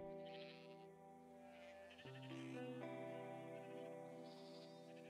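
Sheep in the video game Broken Roads bleating with long, wavering, strongly harmonic cries, several overlapping calls layered over a steady ambient bed, with no talking.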